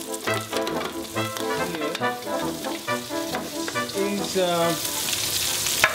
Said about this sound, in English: It's potatoes with bacon, cooking, the rendering of the bacon.